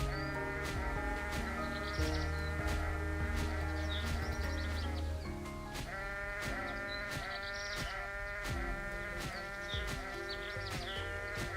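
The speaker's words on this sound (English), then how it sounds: "Oh wait, this sheep has a health bar now." A sheep in a video game bleats in repeated wavering calls over a steady, rhythmic backing, up close and fairly loud throughout.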